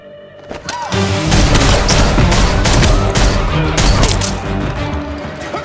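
A loud, dense burst of rapid gunfire and impacts from the action film John Wick: Chapter 2 roars for several seconds, booming shots overlapping into a sustained fusillade.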